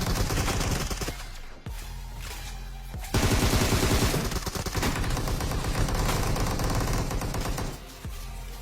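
Sustained video-game gunfire from two enemies shooting at the player, dense rapid automatic bursts overlapping loudly and continuously, from an M416-focused shooter match.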